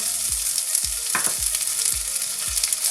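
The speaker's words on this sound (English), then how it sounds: "So in that oil I'm adding the onions now." Onions sizzle loudly in hot oil in a pan over medium heat, a steady bright frying hiss broken by several low, regular knocks of stirring.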